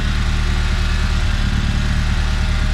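A swapped-in engine in a Ford Fiesta ST runs steadily on its own without coolant pipes connected, a loud, close, continuous drone with an even idle and no voices.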